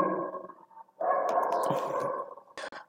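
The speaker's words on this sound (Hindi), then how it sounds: "ये क्या कुत्ते भौंक रहे हैं ना, मेरा ध्यान उधर चला गया।" Dogs barking somewhere near a home math lesson, a rough burst of barks followed by a longer stretch of yelping and growling, then two short sharp barks near the end, moderately loud with no voices over them.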